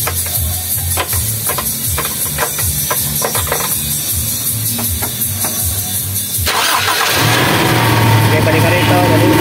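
Toyota Revo engine running steadily during a power steering fluid replacement, a close mechanical drone with a rhythmic pulsing beat, turning louder and rougher near the end as the revs rise, with people talking over it.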